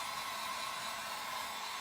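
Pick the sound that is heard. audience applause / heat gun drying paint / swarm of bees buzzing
heat gun drying paint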